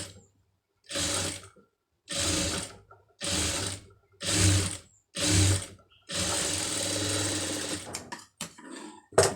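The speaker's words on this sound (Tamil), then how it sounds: "கரெக்டாக அந்த நூலை ஒட்டி வந்து தையல் வந்து போடணும்" A sewing machine runs in six short bursts of stitching along a thread line for invisible piping, then one longer continuous run, each burst a steady mechanical whir separated by silence, close and without talk.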